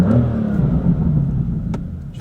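A BMW M3 F80 engine gives a short, loud rev close by, a deep roaring surge that rises and settles within a couple of seconds.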